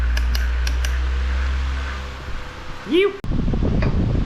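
An electric fan clicks on after a low background hum fades, then runs with a steady, broad whoosh of moving air close to the microphone. A voice speaks briefly.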